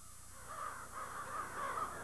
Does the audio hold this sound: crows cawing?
yes